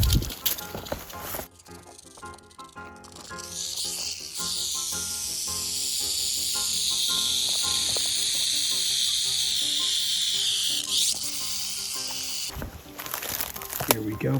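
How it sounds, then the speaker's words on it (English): Rattlesnake in the Arizona desert giving a steady, sustained buzzing rattle that builds and holds near the microphone for several seconds, with brief quieter stretches before and after and faint rustling. "We're just barely getting a little bit of a rattle now."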